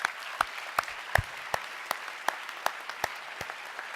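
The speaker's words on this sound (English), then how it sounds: "So I'd ask you to please give a round of applause to all the military families." An audience applauds military families at a veterans' award ceremony. Sparse, distinct claps ring out alone with no voices and stay moderately loud throughout.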